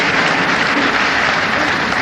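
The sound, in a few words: audience applause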